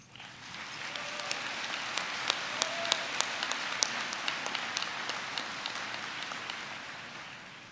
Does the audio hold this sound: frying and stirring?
no